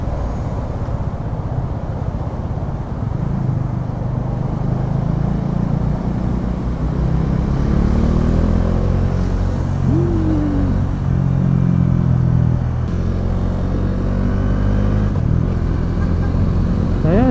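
A Bajaj Dominar 400 motorcycle ridden through traffic toward Manila, heard as a steady loud engine drone mixed with heavy wind rumble and passing vehicles throughout.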